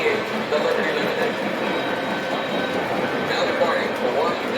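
The Liberty Limited, passenger train number 58, rolls along track 2 in a steady, loud, broadband rumble with faint wheel noise, continuous for the whole stretch and with no voices over it.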